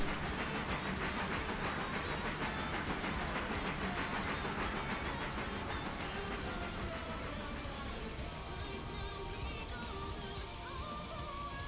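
A locomotive pulling a short train in the railway sim game Railroader, a steady rumbling chug with hiss and rail clatter, slightly easing toward the end, with no talk.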